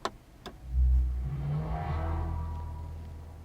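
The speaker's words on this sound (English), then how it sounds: "when you turn the car on, it makes an AMG specific noise" A Mercedes-AMG EQS 53 electric car starts up: a couple of soft clicks, then a low electronic hum swells up and sustains, with a faint rising synthetic tone layered over it, fading gently.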